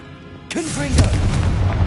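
Confringo blasting spell from Hogwarts Legacy going off as a sudden loud burst, then a sustained rumbling roar and crackle. A spoken word sits just before the blast and a voice rises over it.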